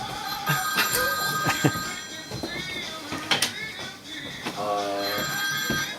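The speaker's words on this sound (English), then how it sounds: "This is where the phone calls will start." A telephone rings repeatedly backstage at a comedy club, bright trilling rings mixed with people talking and background clatter.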